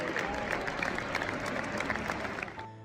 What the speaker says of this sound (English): the entire stadium joined in a round of applause